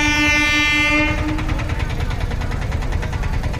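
Repalle–Tenali passenger train passing close by, opening with a loud sustained horn blast for about a second, then a steady heavy rumble of wagons rolling past with no voices.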